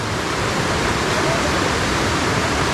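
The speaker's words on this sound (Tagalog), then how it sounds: "Eto na mga tropa, nandito na tayo ngayon sa ilog." River rushing at Haishen Falls in the mountains of Pingtung County, Taiwan: steady, loud broadband water roar that stays constant and close throughout, with no pauses or distinct events.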